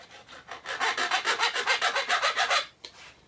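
Rhythmic metal filing strokes dress the frets of a homemade red vinyl cigar box guitar, about fifteen even back-and-forth rasps in a steady run, close and fairly loud, ending with a short final stroke.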